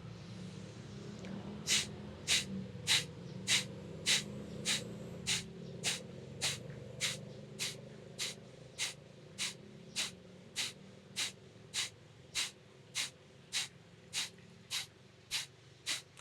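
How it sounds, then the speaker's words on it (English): Short, forceful bursts of breath blown out through the nose during a breathwork exercise, about two dozen sharp puffs in a steady fast rhythm, close and clear over a low background hum. "we're gonna pump out in short exhale bursts, like you're fogging up the window coming out, blowing out the nose"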